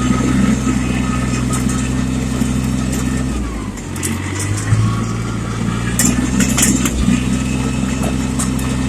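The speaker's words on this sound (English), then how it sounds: "Really started with a diesel engine and a really small and nimble tractor." A small, nimble diesel tractor runs outdoors on a cold day with a steady, throbbing engine drone that dips briefly midway and then holds an even, close rumble throughout.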